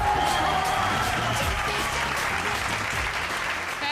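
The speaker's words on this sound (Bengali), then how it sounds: "জোরে হাততালি একটা, ফ্যান্টাস্টিক" Loud, dense applause from a television game show studio audience, steady and continuous throughout the short stretch.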